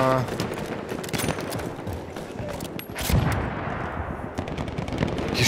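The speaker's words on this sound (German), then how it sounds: "Die schießen alle Leute, aber ich weiß nicht auf was." Battlefield 1 multiplayer combat with steady, overlapping gunfire and machine-gun bursts, near and loud, occasional heavier cracks punctuating the continuous firefight.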